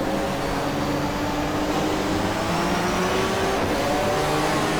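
A German touring car in the GTR2 racing game on the Diepholz circuit, engine droning steadily at high revs with shifting harmonic pitch as it downshifts toward second gear, loud and continuous.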